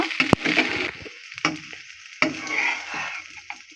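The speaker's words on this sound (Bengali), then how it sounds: "এবার ভালো করে নেড়ে চেড়ে নিতে হবে ভাতটা কালার আসার জন্য" Schezwan fried rice is stirred and tossed in a hot pan, giving a few sharp scrapes and clacks of the utensil over a soft sizzle, with short pauses between strokes.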